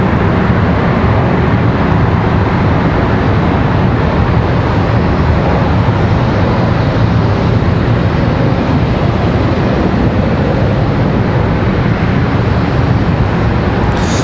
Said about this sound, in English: American Airlines 2011 coming in from Houston, A320-1200 off in the distance, coming in 36 left.